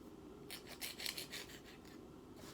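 A file works an acrylic nail in a quick burst of faint, light scratchy strokes at close range, with no voices.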